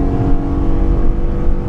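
A 2014 Honda Pilot AWD pulls away in a launch, its engine giving a steady, loud, low drone close by for under two seconds with no voices.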